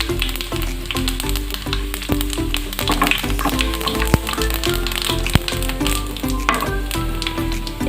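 Whole cumin seeds, black mustard seeds, cinnamon and cloves sizzle and crackle steadily in hot oil for a restaurant-style fish curry, with close, continuous frying hiss and small pops and taps throughout.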